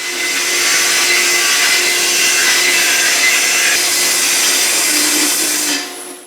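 Continuous loud sawing through wood for a clamp rack, a steady rasping whine running nearly six seconds before cutting off abruptly at the end.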